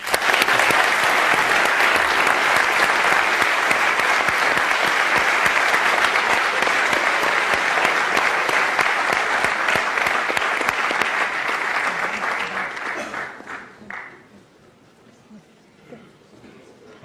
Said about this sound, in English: I hope you'll join me in a big round of applause